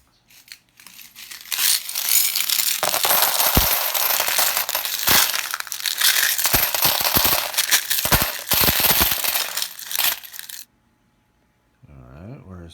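A large pile of cents pours out in a long, loud, continuous metallic clatter and jingle, ending abruptly, followed by a brief quiet rustle.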